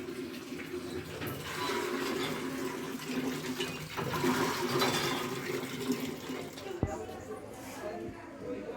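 Water runs steadily in a village home, a continuous close splashing rush with murmured voices underneath and a brief knock near the end.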